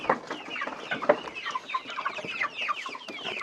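Backyard hens clucking and chattering in quick, overlapping bursts, up close and with no talk, at a small French farm where rabbits are also kept.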